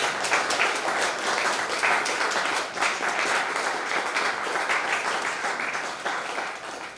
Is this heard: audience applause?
yes